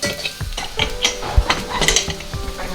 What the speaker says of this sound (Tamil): நம்ம இப்போ வந்து பருப்பை எடுத்து இதில் ஊற்றிடலாம்